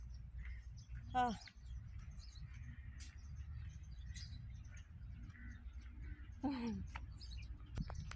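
Two short sweeping bird calls stand out over a low background rumble, a few seconds apart.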